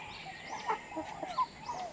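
Turkeys near a bamboo laying pen being built on a farm give several short gobbling and clucking calls, fairly close and moderately loud, scattered over a faint background.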